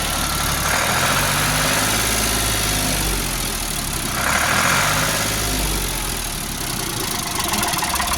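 A diesel engine runs steadily with a low rumbling idle, rising briefly in pitch as it revs up once or twice, close and continuous with no talk.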